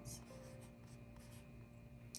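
Paper Mate InkJoy gel pen writing on paper with another sheet beneath, giving soft, close scratchy strokes in short bursts with brief pauses.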